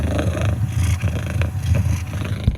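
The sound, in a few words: cat purring sound played by Soundcore speaker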